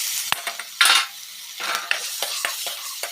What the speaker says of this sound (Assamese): এতিয়া মই কেৰাহীটো গৰমত বাটাৰখিনি দি দিছোঁ